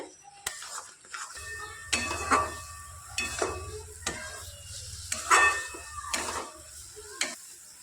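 A spoon scrapes and clinks against a pan as besan laddu mixture is stirred, with several distinct metallic knocks and scrapes over a low, faint sizzle in a quiet room.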